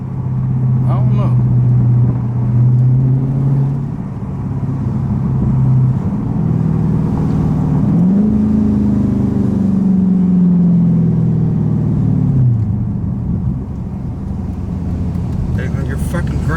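Loud revving from a Dodge Scat Pack car engine, a deep rumbling idle rising into long sustained revs that swell and fall back several times, with voices talking over it.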